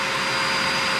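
A powerful blow dryer runs steadily on a dog, a loud, even rushing whoosh with no pauses, close to the listener.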